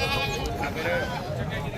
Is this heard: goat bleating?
yes